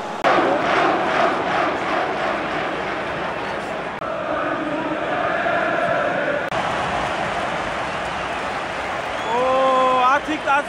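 Manchester United fans fill a stadium with a broad, steady crowd roar that swells and settles, with someone talking over it near the close.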